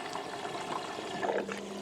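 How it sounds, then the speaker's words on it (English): Water rushes into a Beko washing machine through an open inlet valve, a soft continuous hiss and trickle heard close up without any talking. "The machine will stop spinning and the one water valve on the right hand side is activated."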